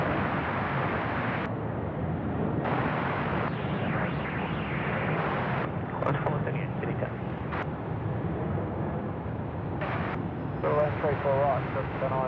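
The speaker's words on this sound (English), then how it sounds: "That dedicated 747 400 freighter." A Boeing 747-400 freighter at Sydney Airport at night: a steady, broad jet engine roar held throughout, with people talking over it and a crackly radio cutting in and out.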